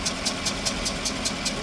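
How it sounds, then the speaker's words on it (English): Idling pickup truck engine with an exhaust leak, a steady near rumble broken by evenly spaced sharp ticking puffs about every fifth of a second, with no talk over it. "It sounds like serious exhaust."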